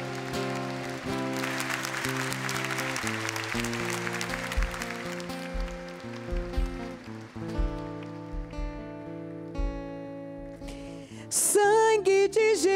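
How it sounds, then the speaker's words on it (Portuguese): A church congregation applauds during worship, a dense rain-like clatter of clapping under sustained organ or keyboard chords, with a voice rising loudly near the end. "Aplauda o Senhor."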